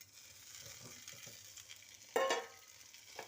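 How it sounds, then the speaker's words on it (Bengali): Salted, turmeric-coated potato pieces fry in hot oil in a pan, a soft steady sizzle with a brief louder burst of spattering near the end, close and fairly quiet. "ফ্রাই করতে বসিয়ে দিলাম"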